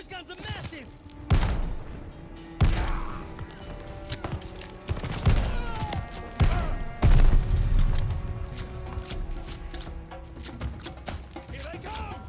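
Heavy guns in Call of Duty Vanguard boom in loud, widely spaced blasts with a denser rattle of gunfire between them. Battle noise stays close, and voices call out between the shots.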